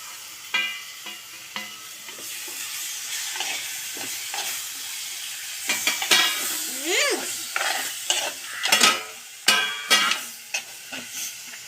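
Masala-marinated squid sizzles and spits in a hot pan while being stirred for a squid thoran, with frying crackle and scraping strokes that rise and fall and grow louder toward the end, no voices.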